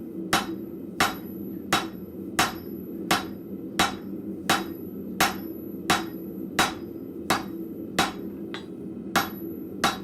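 A rounding hammer strikes hot metal at a blacksmith's forge in a steady rhythm of about fifteen sharp, ringing blows, evenly spaced over a low shop hum, with no talking.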